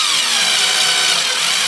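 An electric drill drives a screw into a wooden dulcimer, a loud, close, steady high whine lasting under two seconds with no talk.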